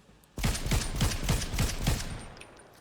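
Rapid automatic gunfire from a weapon in the video game Fortnite, about seven sharp evenly spaced shots in a quick burst, loud and close with no voices.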